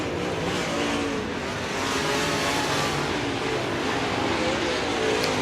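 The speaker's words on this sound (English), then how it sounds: "on this dirt racetrack and on those dirt cars" Dirt track race cars roaring around an evening racetrack at a qualifying heat, a dense continuous engine drone from several cars with no breaks, steady and loud throughout.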